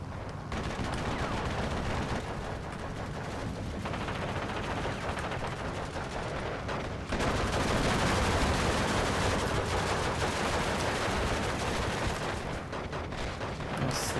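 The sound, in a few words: gunfire from an entrenched bunker gun, Steel Division 2 video game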